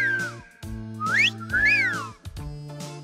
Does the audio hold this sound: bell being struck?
no